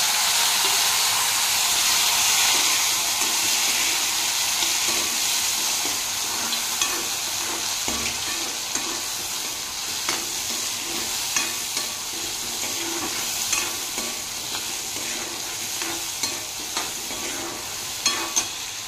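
Tomatoes added to a pan of reddened garlic tempering fry with a loud, continuous sizzle, broken by regular scraping stirs of a spoon in the second half.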